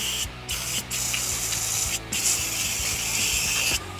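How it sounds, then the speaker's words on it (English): Short bursts of aerosol cleaner hiss onto the parts of a Craftsman DRM500 lawn mower, several quick sprays over a faint rhythmic mechanical ticking, close up with no talk. "I'm also gonna spray this area"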